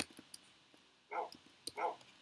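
A dog in Minecraft gives two short, clear barks about a second apart amid soft game clicks and quiet background, with no talking.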